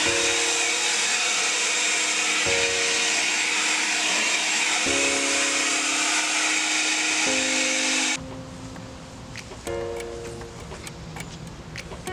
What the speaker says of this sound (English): now I'm gonna use the leaf blower just to blow out any water that may be in some of the crevices